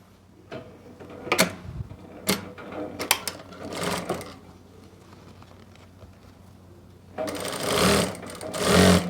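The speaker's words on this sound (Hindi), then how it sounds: "बिल्कुल एक पैर का मार्जिन देते हुए सिलाई लगाएंगे" A sewing machine stitches a rib strip onto a kurti in short, uneven bursts separated by pauses, then runs in a longer, louder stretch near the end.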